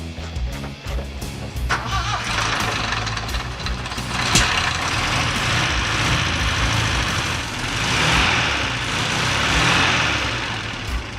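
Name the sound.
Chevrolet LUV pickup engine running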